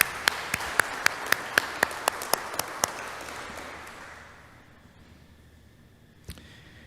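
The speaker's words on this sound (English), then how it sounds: "round of applause for setting this all up." Scattered applause at a public works training conference, a dense burst of clapping led by a few sharp, evenly spaced claps near the listener, fading out after about four seconds, with one last clap near the end.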